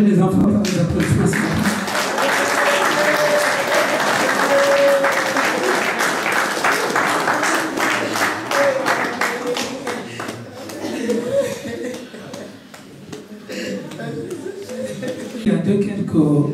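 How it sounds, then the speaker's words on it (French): Mourners applaud to encourage children at a funeral ceremony, a loud roomful of clapping with shuffling and a voice talking over it, thinning out partway through before picking up again. "On va encourager les enfants par les applaudissements."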